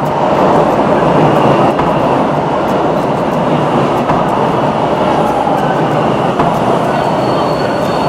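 A Toronto subway train rides along the track, with a continuous loud rumble, wheel noise and faint squeals heard from inside the car.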